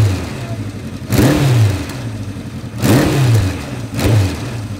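Close, loud classic Kawasaki Z1 inline-four motorcycle engine blipped three times, each rev swelling quickly from a throbbing idle and falling back.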